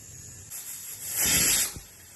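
A pressure cooker cooking chicken hisses as steam escapes, a soft hiss swelling into a loud burst near the middle before dying away.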